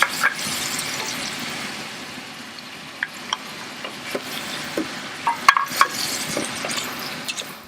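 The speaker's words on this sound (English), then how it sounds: "Garlic. Green pepper and celery. And we're going to saute that for 5 to 7 minutes." Garlic, green pepper and celery sauté with onion in an Instant Pot for jambalaya. A soft, steady sizzle runs under scattered stirring clinks and scrapes, and no one speaks.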